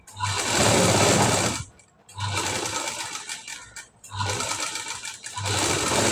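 A sewing machine stitches a high-neck blouse in three long runs, a close, loud, steady whirring with brief pauses between bursts and no voices.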